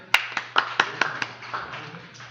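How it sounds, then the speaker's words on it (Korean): A short burst of clapping, several distinct claps in quick uneven succession, fairly faint, with murmuring voices underneath. "박수 한번 쳐주세요"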